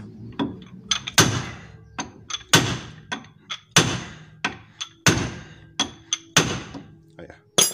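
Repeated heavy sledgehammer strikes on metal while dismantling a Volkswagen Brasília's front suspension, about a dozen sharp ringing impacts at an uneven, steady working pace, close and loud.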